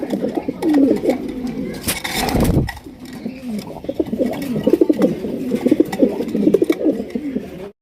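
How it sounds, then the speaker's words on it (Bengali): Pigeons coo in a busy pigeon market, with several low, throaty calls overlapping near and far amid market bustle and voices. "ফ্রেশ কবুতর ভালো মানের কবুতর"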